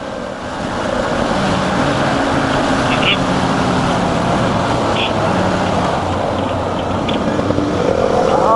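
A group of motorcycles pulls away together in hot weather, a steady broadband engine and wind roar holding level throughout, close to the rider, with faint talk mixed in.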